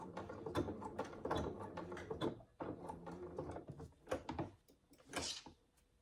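A sewing machine back stitches the top of a saddle bag strap tab in a run of clattering, ratchety mechanical bursts, fairly close and uneven in rhythm, with brief pauses between passes.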